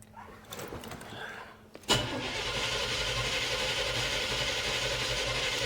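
A new Chevrolet small-block 350 V8 fires up for the first time, with a short crank that catches into a loud, steady idle close by after faint rustling at the start.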